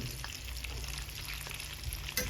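Eggs fry in curry oil in a pan, giving a steady, close sizzle and crackle throughout that fills the whole time, with faint stirring clatter and no voices.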